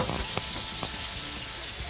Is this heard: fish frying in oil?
yes